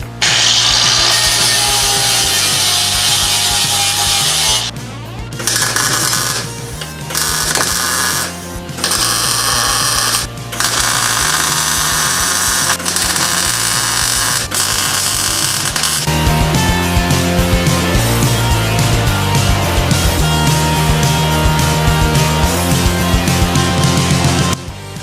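A power tool cleans up sheet metal on a Volvo 240 Turbo ahead of welding in a new bracket: a loud, continuous abrasive roar with a few brief pauses early on, then a steadier, harsher run.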